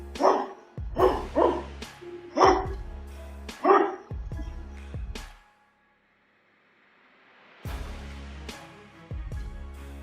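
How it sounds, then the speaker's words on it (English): Dogs inside a store bark at burglars, a run of loud, close, sharp barks in quick bursts, then a pause of near silence before a couple more barks return. "A few barks and their plan was ruined, replaced by a panicked run."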